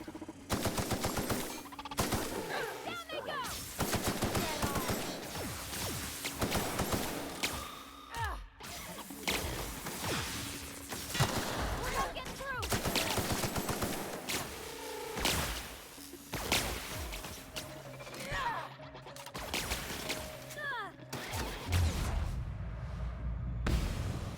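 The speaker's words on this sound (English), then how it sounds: "Corrosive rounds work really well on these things, isn't it?" Rapid bursts of gunfire with corrosive rounds in The Outer Worlds, loud and continuous with sharp cracks, whip-like snaps and whooshes layered over game effects, with no talk.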